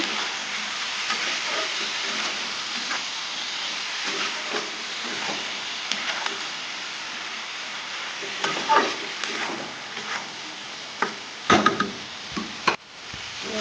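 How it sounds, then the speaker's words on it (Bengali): Spice masala is stirred and fried in a pan for a vegetable curry: a soft continuous sizzle with spatula scrapes and sharp clicks, growing busier and louder toward the end, without any talking. "তো ভালোভাবে মশলাটা কষিয়ে নেব"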